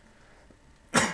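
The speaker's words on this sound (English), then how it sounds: "excuse me here while I cough for a second." A single sharp, loud cough bursts out near the end after a quiet stretch, close to the microphone, with no talk around it.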